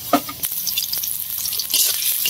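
Puffed rice roasting and being stirred in a pan, a steady dry sizzle with scraping and rattling strokes that run throughout, close up with no talk.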